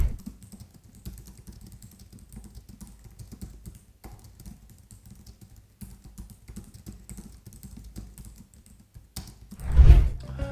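Quiet, light clicks from typing on a low-profile pantograph keyboard tap along in an irregular rhythm close to the mic, ending in a slightly louder thump.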